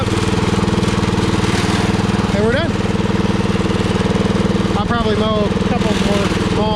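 A Power King garden tractor mows grass, its engine thumping loudly and steadily close by, while a voice speaks briefly over the running motor.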